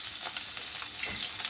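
Fish frying in hot oil, a steady dense sizzle with small crackles throughout and no talk.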